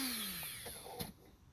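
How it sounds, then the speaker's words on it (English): A Dremel rotary tool trims a 3D-printed camera mount, a high-pitched whining spin that drops in pitch as it slows, with brief grinding contacts before it cuts off into quiet near the end. "I just had a Dremel handy"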